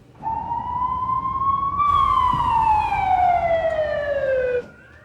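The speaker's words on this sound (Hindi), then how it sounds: "तुम्हारे पीछे एम्बुलेंस की आवाजें कैसी?" An ambulance siren wails loudly and steadily nearby, one long tone rising slightly and then sliding down in pitch before cutting off.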